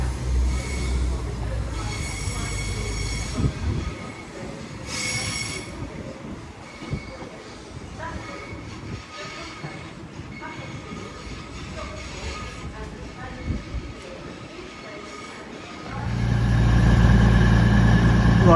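A cross-country passenger train from Oxford to Manchester Piccadilly rumbles steadily past at close range on the Wolverhampton to Shrewsbury line with squealing wheels, then a louder roar of engine and wheels swells near the end.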